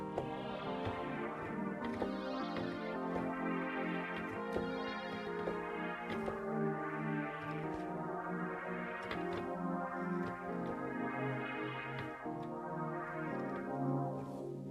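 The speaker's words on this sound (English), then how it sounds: "So this is the Nord lead alone. Sounds like this." A dense Nord Lead synthesizer patch plays layered, buzzy chords that swell and shift in a steady rhythm, loud and unaccompanied by voices.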